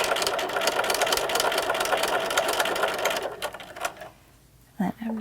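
A sewing machine stitches across the front of a fabric face mask, a fast, even mechanical whir with rapid needle clatter for about three seconds, then it stops and a few faint handling sounds follow.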